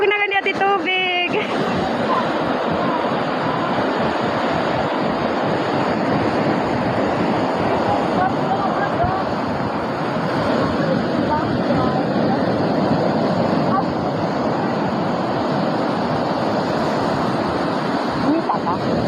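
Rough sea waves surge and crash continuously, a dense roaring wash of surf with wind buffeting the microphone throughout, after a brief opening of other noise.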